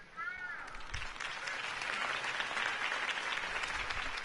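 Crowd applause after a campaign speech in the video game Batman: The Telltale Series, a broad steady roar of clapping that swells slightly and continues throughout, with a brief tonal chirp near the start.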